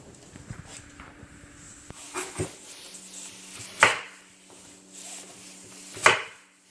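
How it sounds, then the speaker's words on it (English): A knife splits a whole onion on a cutting board, producing a few scattered, distinct thuds and cracks spaced seconds apart at close range in a fairly quiet room, with faint handling noise between them. "we're gonna split this onion up"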